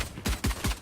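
Rapid bursts of gunfire from a tactical first-person shooter match, four sharp, loud shots in quick succession with no talk over them.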